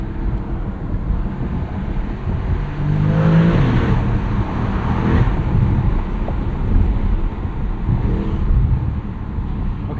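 A 2025 Porsche Panamera GTS twin-turbo V8 sounds its exhaust while driving under bridges in the evening, a loud droning rumble with wind buffeting, heard from inside the car with windows down.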